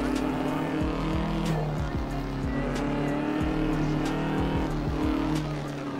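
Racing car engine in Assetto Corsa on the Mulholland road map, revving and shifting steadily with repeated tire squeals and skids through corners, loud and continuous with no talk.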